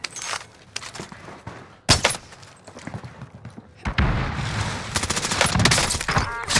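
Call of Duty Rebirth Island gunfire: scattered shots with a sharp, heavy hit near two seconds, then dense, sustained rapid fire that grows louder and more continuous toward the end.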